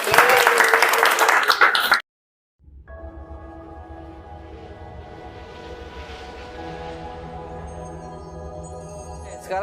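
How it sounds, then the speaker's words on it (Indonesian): A classroom of students bursts into a short round of applause for about two seconds, loud and dense, then stops abruptly into silence and faint room ambience. "Kasih aplaus."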